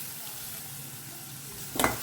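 Chopped onion and toor dal frying over a low flame in a pan, a faint steady sizzle throughout, with one short louder scrape or stir near the end.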